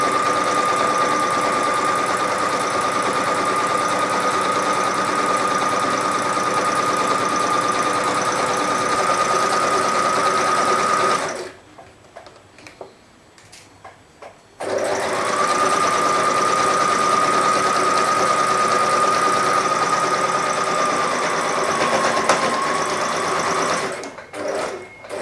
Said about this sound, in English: So I hope that my machine can take all this fabric because it's honestly quite thick.